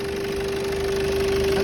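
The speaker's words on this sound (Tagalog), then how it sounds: "dahil maingay ang kanyang turbo" A Toyota Fortuner with about 175,000 km and a noisy turbo runs steadily, giving a constant engine drone with a sustained whining tone held throughout, close by and fairly loud.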